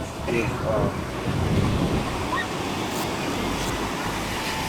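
Steady breeze and rolling surf at a busy beach in Hoi An, a continuous broad wash of waves with wind buffeting the microphone, with faint voices in the background.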